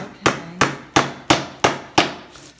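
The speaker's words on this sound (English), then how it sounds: "I always nail these pieces together a little bit because when you glue them..." Six sharp hammer strikes drive nails into wooden half hull pieces of a cat boat being glued up, spaced at a steady rhythm about a third of a second apart, loud and close with no talk.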